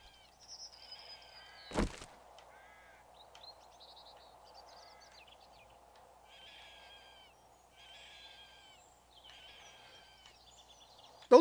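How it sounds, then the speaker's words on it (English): Several sick-sounding bird calls in the video game 7 Days to Die, soft chirps and warbling phrases repeating in short bursts over a steady low ambient hum, with one sharp loud thump early on. "Those birds sound different. They sound sick."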